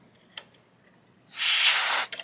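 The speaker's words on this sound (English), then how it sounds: "take your air duster can, and you're going to want to go in the back over here" A compressed air duster can sprays into the back of a Dyson hot+cool fan in one sharp, loud hiss lasting under a second, followed by faint clicks.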